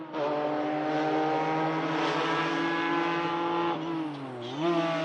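Lancia Stratos rally car engine revving hard, a loud rasping sustained howl with rich harmonics holding high, then dipping briefly and climbing again near the end, close and alone without talk.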